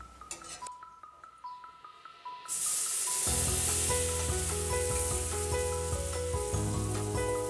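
Boiled mandioquinha hits melted butter in a pan, quiet clinks and handling giving way to a sudden loud, steady sizzle that carries on close up without talk.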